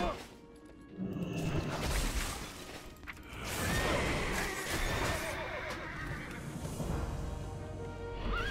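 A horse in the video game World of Warcraft whinnies loudly, the long shaky neigh sitting among clattering game sounds and thuds, with talk heard now and then.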